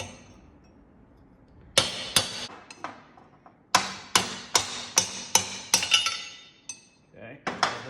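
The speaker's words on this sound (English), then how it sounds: "So I'm going to knock the races out" Hammer blows knocking bearing races out of the axle of a 1949 Willys CJ3A Jeep: sharp metallic strikes, two isolated hits, then a fast run of about eight evenly spaced ringing knocks and a few more at the end, close and loud.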